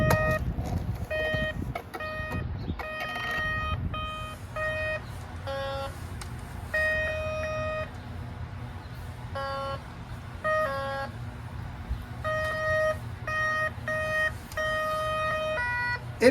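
A SkyCruiser metal detector beeps on its own, sounding irregular bursts of bright electronic tones, some short and some held, over a low background rumble.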